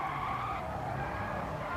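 In Gran Turismo Sport a car drifts through a corner in fifth gear. A sustained, loud tire squeal rides over the engine roar without a break.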